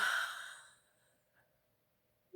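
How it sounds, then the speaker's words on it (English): A person gives a big audible yawn, a breathy exhale that starts loud and fades out over about a second, alone with no talking. "Big yawn out."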